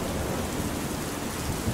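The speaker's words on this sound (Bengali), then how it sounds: "এ বৃষ্টি দেখে বুঝতে পারছো না রাত 9টা-10টার কমে এ বৃষ্টি কমবার নয়।" Heavy rain pours steadily through a stormy night in a Bengali horror cartoon, a dense, even hiss of downpour with no clear thunderclap standing out, and no voices.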